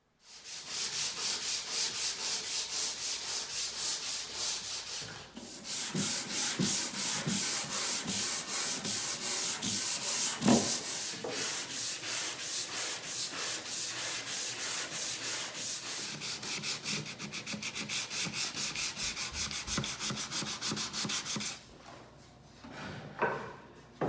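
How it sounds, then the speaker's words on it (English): Steady back-and-forth sanding of a wooden Shaker bench with a hand sanding block, a close, continuous rasping with rapid rhythmic strokes and a brief pause partway through. "as long as I can use the sanding block, I'm going to use it"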